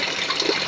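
Water from a submersible pump falls steadily into a crayfish tank, a close, continuous splashing gush with no break or voices.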